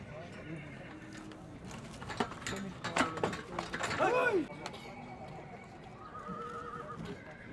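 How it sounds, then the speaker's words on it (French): Hooves clip-clop on a hard surface while a horse lets out a loud whinny midway, with people talking in the background, at a farrier's in Karakol, Kyrgyzstan, where horses wait to be shod. "Plus loin, on attend son tour pour faire ferrer son cheval."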